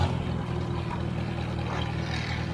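An H tractor engine running low on gas while mowing sorghum, a steady, close, low rumbling drone with uneven pulsing that hints at sputtering, running alone without talk.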